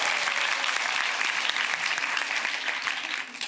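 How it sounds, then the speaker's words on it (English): A room full of people claps steadily with sustained, dense applause, loud and even, tapering slightly at the end. "Please give an applause to the only guy who wanted to say something about sex."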